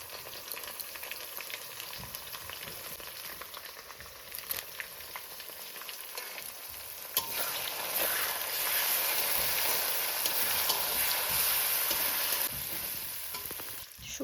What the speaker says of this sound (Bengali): মশলাগুলোকে ভালো করে কষিয়ে নেব।